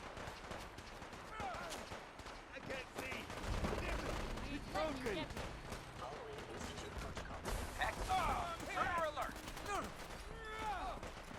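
Gunfire in Fallout 4 crackles as a fast, dense spread of shots under game voices and combat noise, steady and fairly faint throughout the stretch.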